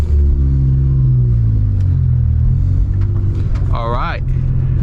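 A right-hand-drive Toyota JZX81 with a 1JZ engine rumbles loudly and close at a steady, throaty pitch, with a brief high warbling sound rising over it near the end.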